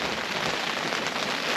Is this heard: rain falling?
yes